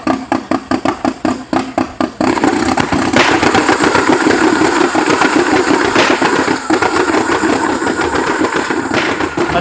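A Honda Civic EG race car engine under tuning fires in a quick run of sharp, loud pops and bangs, then settles into a sustained, close, roaring rev with crackling backfires.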